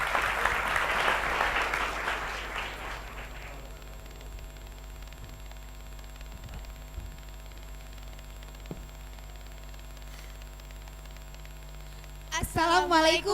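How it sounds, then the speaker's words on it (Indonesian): Audience applause at a school stage show, a broad burst of clapping that swells loud at the start, then fades out after a few seconds, leaving quiet hum before a voice begins near the end. "Beri aplaus yang meriah."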